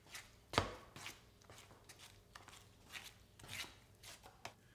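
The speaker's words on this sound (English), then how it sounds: "Now, mix up enough drywall mud to cover the patch." Drywall mud being mixed for a lath strip patch in a drywall repair: irregular wet scraping and knocking strokes, one sharp loud hit early on, then softer repeated stirring sounds, close and alone with no talk.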